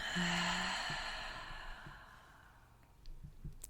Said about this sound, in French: Et on va prendre ensemble une profonde inspiration par le nez, connecté à cet espace, et expire par la bouche.